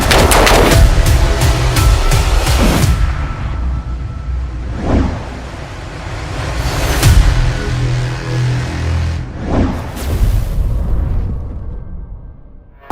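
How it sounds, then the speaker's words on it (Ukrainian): Loud gunshots crack in quick bunches at first, then come in spaced double-tap pairs with short pauses between for magazine changes, echoing nearby. "Сьогодні у нас виконання подвійного пострілу, або як я ще називаю, спліт та зміна магазину"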